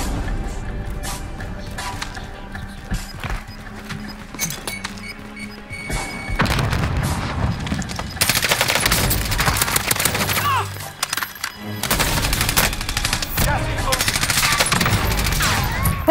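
Automatic M16 gunfire in the video game Modern Warfare, loud rapid bursts and sustained fire with thuds, heard close with someone talking intermittently over the action.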